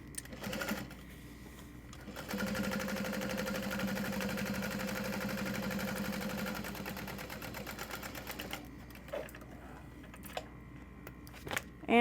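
A sewing machine runs continuously top stitching a tote bag exterior, a steady mid-pitched whir for several seconds, then stops, leaving quiet handling clicks and faint rustles of fabric.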